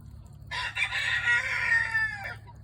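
A young backyard rooster crows once in a long, drawn-out call, loud and close, with faint chicken murmurs low in the background and no talking.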